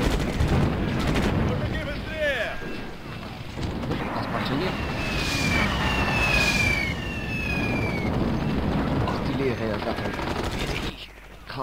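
Artillery fire in the Sudden Strike war strategy game, a dense, continuous barrage of booming shots and rattling gunfire with whistling shells overhead, loud and sustained throughout.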